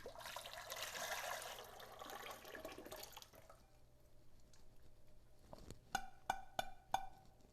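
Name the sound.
liquid being poured into a mixing bowl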